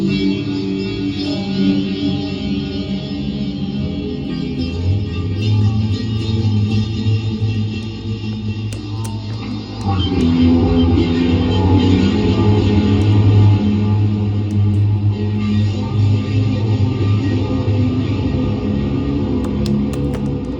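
Ambient guitar pad played through an Exotic Effects SL Drive overdrive pedal, a sustained, swelling wash with heavy echo and reverb, steady and loud throughout, growing fuller and brighter about halfway through.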